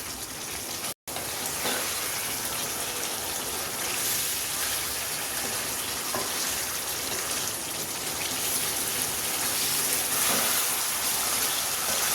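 Chicken for a Hyderabadi chicken fry cooks over high heat as its water reduces, giving a dense, continuous hiss and bubbling close by, with one brief cut to silence near the start.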